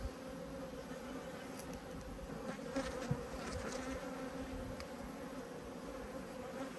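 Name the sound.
honeybees buzzing during apiary inspection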